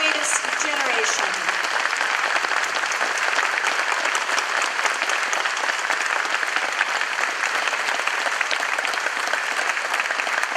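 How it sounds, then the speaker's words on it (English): Sustained, loud audience applause at a military awards ceremony at Naval Air Station Fort Worth honoring World War II veterans, a thick continuous wash of clapping with some crowd noise mixed in. "Let's give all of these heroes one more rousing applause for their service, the greatest generation."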